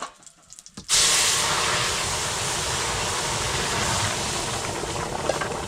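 Boiled dal with radish and green chilli poured into hot oil sets off a sudden loud, steady sizzle that hisses on for several seconds after a few quieter kitchen sounds.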